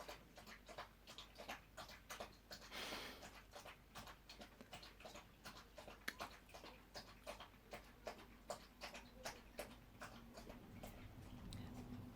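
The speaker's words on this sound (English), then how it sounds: "one thirsty puppy." A thirsty puppy laps water in quick rhythmic licks, a steady series of close, soft wet taps lasting about twelve seconds, with a brief rustle early on and no talking.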